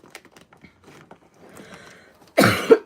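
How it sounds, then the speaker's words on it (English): After a stretch of quiet clicking and shuffling, a single sharp, harsh cough bursts out close to the microphone. "I keep coughing because I keep smoking weed."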